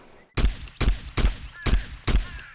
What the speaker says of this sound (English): with my AK in semi-auto